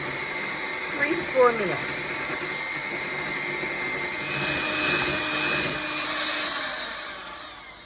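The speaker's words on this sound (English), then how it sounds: "Now I'm going to use a hand mixer to whisk our eggs" An electric hand mixer whisks egg whites for coconut macaroons, a steady whining motor drone that swells slightly as a person talks over it.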